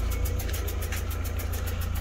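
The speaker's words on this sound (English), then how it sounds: "Switch the engine on." A 2011 Vauxhall Zafira B engine idling, heard close as a steady low rumble with a fast, regular ticking pulse and no voices.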